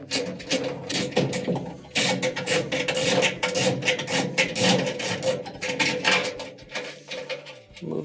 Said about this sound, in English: Let's get a little ratchet in here and remove the screw.